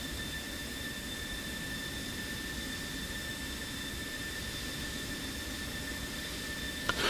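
Steady whine of an F-16 fighter jet's engine idling and taxiing in a flight simulator match, a constant high-pitched roar with thin tonal whistles that runs throughout and ends with a short click.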